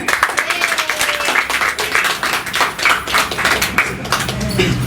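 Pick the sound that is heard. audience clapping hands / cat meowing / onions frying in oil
audience clapping hands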